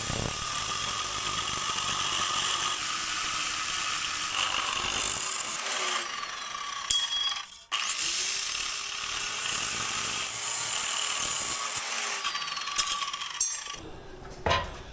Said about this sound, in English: That's the advantage of that Harbor Freight 7-inch grinder right there. I got a nice crisp cut all the way across.